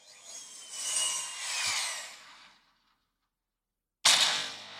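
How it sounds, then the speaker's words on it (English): Star Wars seismic charge effect: a bright, hissing sweep swells and fades over a couple of seconds, a beat of dead silence follows, then a sudden sharp burst erupts loudly. "Here's one of the most satisfying sounds in all of Star Wars. Seismic charges."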